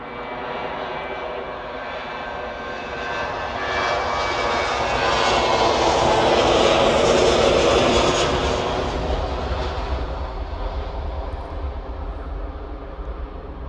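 A Ryanair jet bound for Alicante takes off from Manchester, its engine roar swelling to a loud peak midway and then fading as it climbs away, with no talk over it.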